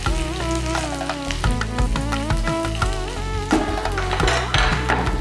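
Chopped ginger and green chilli frying in hot oil over popped mustard seeds for Onam inchi puli, with a steady close sizzle and crackle running throughout under a busy layer of tonal sounds.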